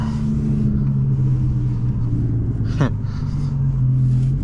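An Audi R8 Performance pulls away on a winter road, its engine a low steady interior rumble with a brief rising rev partway through, heard from inside the cabin.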